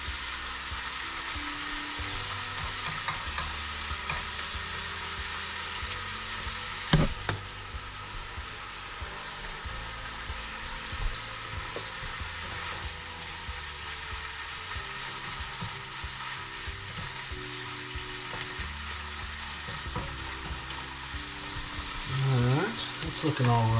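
Onions, garlic and chilies frying in a pan for egg fried rice, giving a continuous even sizzle with an occasional clatter, while a person talks over it throughout.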